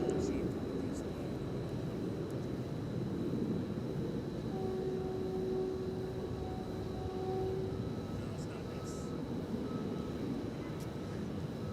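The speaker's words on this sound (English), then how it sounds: "A 777 freighter just coming in next." A Boeing 777 freighter comes in to land at Dallas Fort Worth airport at night, a steady broad jet roar holding throughout at moderate distance, with a faint whining tone rising in the middle.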